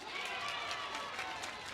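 Crowd noise at a 2010 high school basketball game between Milwaukee Hamilton and Milwaukee Washington, a steady wash of cheering and chatter in a gym, moderately loud and continuous for a brief moment.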